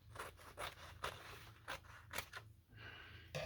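Scissors cut paper in a sketchbook with a run of quiet, crisp snips and scraping rustles at an uneven pace, close up and with no talking.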